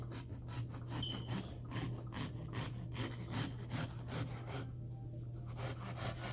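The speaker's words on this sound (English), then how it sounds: "I'm going to take a small knife and cut out all of those imperfections right there" Small knife carving blemishes out of a watermelon with a steady run of scraping, rasping strokes in a quick rhythm, close and fairly faint over a low background hum.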